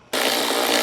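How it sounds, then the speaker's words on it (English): Power tool whirring steadily as a 10mm socket drives a screw down on a cold air intake in a Ford Mustang Dark Horse engine bay, starting abruptly and running loud and continuous. "we're going to use a 10mm socket to tighten it down"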